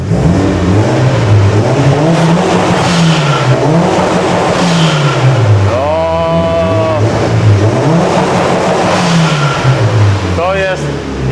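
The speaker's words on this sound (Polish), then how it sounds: "W tym momencie możesz przygazować" A Mitsubishi Lancer Evo 8 engine revs loudly and close, rising and falling in several repeated swells over a steady idle, with voices talking over it.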